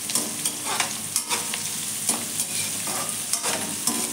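Onion sizzles steadily in a hot pan for a capsicum curry, a continuous bright frying hiss broken by regular scraping stirs from a utensil, close and clear with no talk.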